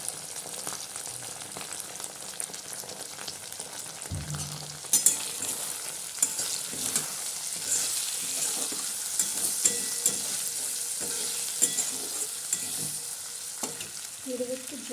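Kashmiri chili, ground coriander and cumin frying in a pan, a soft continuous sizzle broken by repeated scraping stirs, with no talking.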